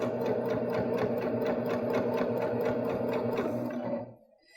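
A Baby Lock Jazz II sewing machine stitches quilt binding at a steady, rapid needle rhythm, close and loud and heard alone, then stops abruptly near the end.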